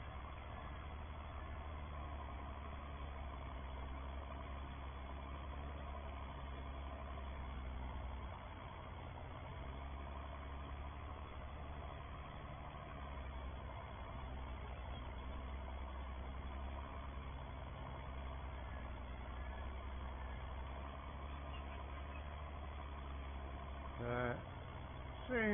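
A Massey Ferguson tractor engine runs steadily while pulling a potato harvester during the potato harvest, a continuous low drone heard from inside the cab, with a brief clatter near the end.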